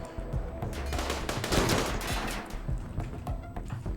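An incendiary triple rocket launcher firing in the video game RimWorld, producing a dense volley of rapid, sharp bursts that rise into a loud crackling cluster and then trail off in scattered shots.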